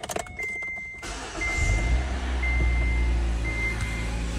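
A car engine cranks briefly and catches, then settles into a steady low idle close by, with short repeated electronic chimes sounding over it.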